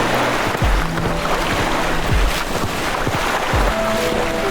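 Gentle ocean waves on a beach at night: a constant soft wash of surf and wind noise, with a few low rumbling swells and faint musical tones in the background.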